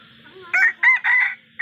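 A rooster crows nearby in a loud, broken series of calls over a low background hum.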